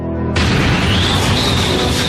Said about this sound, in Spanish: Cuando la puerta estalló, el ataúd que se encontraba en la bodega fue succionado.